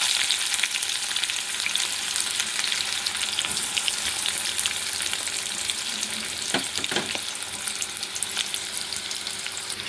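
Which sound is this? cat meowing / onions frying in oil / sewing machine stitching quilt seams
onions frying in oil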